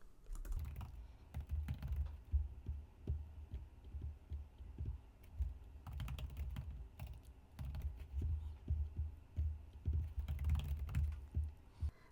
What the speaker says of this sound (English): Now I'm just going to type my words in.